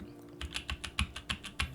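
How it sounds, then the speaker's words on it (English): Spacebar presses on a built Sam S80 mechanical keyboard, with about nine distinct clacks in an irregular rhythm, close and moderately loud with no talking. "If I were to press into the spacebar, you can see the entire fixture just sink."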